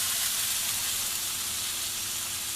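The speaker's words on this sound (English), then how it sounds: "So I usually let it sear" Beef tri-tip searing on a hot grill, an even, close sizzle and hiss that holds steady and fades only slightly, with no voices.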